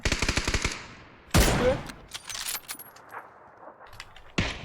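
Automatic gunfire from the video game PUBG: a rapid burst of shots up front, then a loud single blast and scattered shorter bursts and clicks, fairly close and with no one talking.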